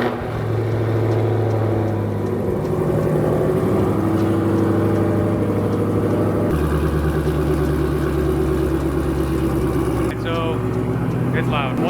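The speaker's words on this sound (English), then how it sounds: "Let's do a cold start." A Dodge Hellcat with a Formula Z exhaust at cold start, its engine holding a loud, steady, deep idle with a brief shift in pitch partway through, close by and continuous.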